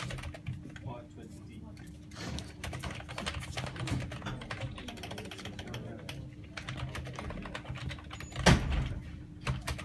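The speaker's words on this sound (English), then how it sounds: "You're a quick typer" Rapid typing on a computer keyboard in a police station interview room, a quick steady patter of key clicks running throughout at moderate distance, with a low hum and occasional murmured talk in the background.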